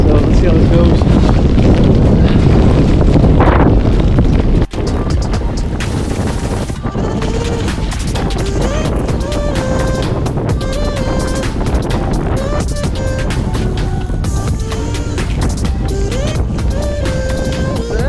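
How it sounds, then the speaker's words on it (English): Strong wind buffets the microphone in a kayak out on salt water during a fishing tournament: a loud, continuous roar with gusts throughout and light splashing underneath. "Wind is blowing."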